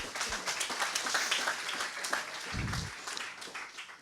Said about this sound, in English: So applause for Marco.